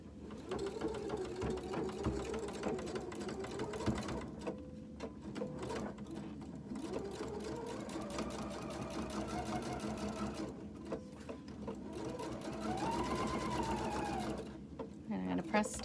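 Sewing machine stitching a quarter inch seam on fabric for a car trash bag, a busy rapid mechanical whir running almost continuously with a few brief pauses between bursts of stitching.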